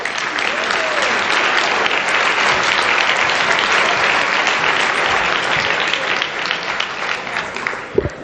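An audience at a chairman's award dinner applauds loudly and steadily, a dense sustained wash of clapping with some cheering, close and continuous throughout.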